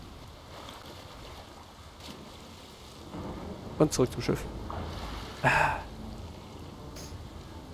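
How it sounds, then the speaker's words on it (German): Steady rain hiss runs through a stormy scene in The Witcher, with a few louder bursts that could be thunder or splashes near the middle and a swell toward the end, while someone talks over it. "Ist ja auch ein Sauwetter. Aber gut, dass es regnet"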